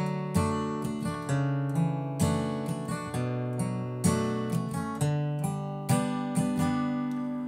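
Strummed guitar chords of a song played slowly, each chord struck and left to ring in an even, unhurried rhythm.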